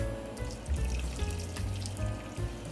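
Chicken broth pours into a flour mixture for a Thanksgiving side dish, a steady wet splashing and trickling that runs the whole time at moderate level.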